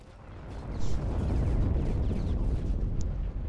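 Artillery shelling and explosions in the video game Heroes & Generals: a continuous loud rumble of blasts with a heavier burst near the start, dense low booms rolling throughout.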